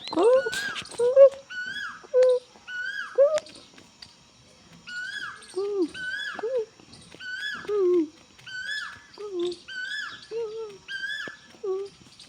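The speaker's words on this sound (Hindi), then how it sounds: "और देखो गाइस कोयल बोल रही है," An Asian koel calls repeatedly near a temple beside a house, its rising whistled notes coming in steady pairs and phrases, fairly close and clear, with another bird's call mixed in at the start.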